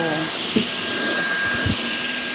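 A household vacuum cleaner runs with a steady whooshing hiss throughout, while a person talks over it and brief bumps sound.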